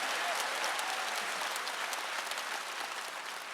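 Congregation clapping at a church revival meeting led by a pastor, a dense, steady wash of many hands that holds evenly throughout and fades slightly toward the end.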